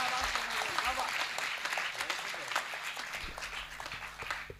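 An audience claps for a poet at an Urdu-Hindi poetry recital, a moderate burst of applause that gradually tapers, with a voice talking over part of it.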